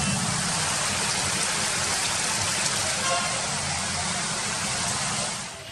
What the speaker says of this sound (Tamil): கொடைக்கானல் மலைப்பகுதிகளில் சுமார் 1 மணி நேரத்திற்கு மேலாக மிதமான மழை பெய்தது.